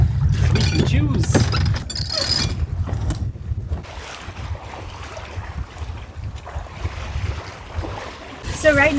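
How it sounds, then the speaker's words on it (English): A sailboat under reefed mainsail and jib moves through waves, with gusty wind buffeting the microphone, creaking and clattering rigging, and water washing against the hull. Low speech-like sounds mix into the noise. "So right now this is actually very peaceful, really lovely sailing"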